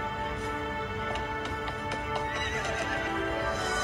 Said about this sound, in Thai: ว้าวพี่จะได้นั่งรถม้าด้วย